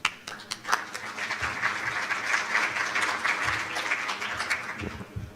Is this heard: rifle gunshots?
no